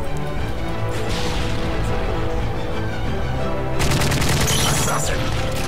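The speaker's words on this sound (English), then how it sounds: "There's like five machine guns shooting at me" Several machine guns firing in Call of Duty: Modern Warfare 3, a dense, continuous rattle of gunfire with crashes and booms, heavier bursts toward the end, loud and up close.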